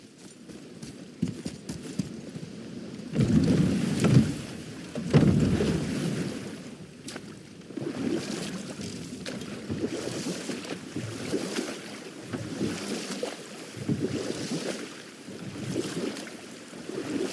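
A boat in a video game moves through water with steady splashing and wash, rising and falling in gentle surges, fairly quiet and with no talking.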